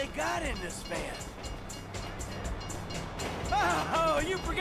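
A train rolls past in Grand Theft Auto 5, its rumble and horn-like tonal blasts rising and falling amid game action and shouting voices, fairly loud and close.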